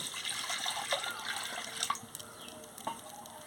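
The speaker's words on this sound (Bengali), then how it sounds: "কড়াতে আমি জল দিয়ে দিচ্ছি।" Water is poured into a wok on the stove for cooking papaya and potatoes, a soft trickling splash that fades into a few faint drips and clinks, with no talk.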